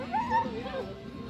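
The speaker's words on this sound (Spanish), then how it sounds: "Solo te ladra." A dog yips and whimpers in short, high-pitched bursts close by, heard under loud human chatter on a cruise.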